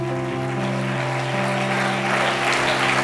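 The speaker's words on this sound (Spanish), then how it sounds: "Dale un aplauso al Señor." A church congregation applauds during a sermon with a dense, continuous wash of clapping that holds steady throughout, over sustained low musical tones.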